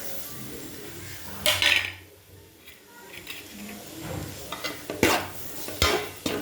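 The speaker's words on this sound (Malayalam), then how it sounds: "ഭംഗിയായിട്ട് വഴറ്റിയെടുക്കാം" Tomatoes are sautéed with coriander and chillies for a chicken curry. A utensil scrapes and clinks against the pan over a soft, continuous sizzle, with several distinct stirring strokes.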